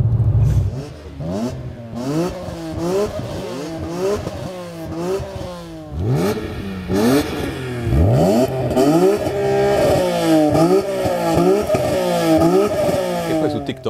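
A BMW M3 E46 engine revs hard again and again, the loud exhaust rising and falling in quick bursts, close by.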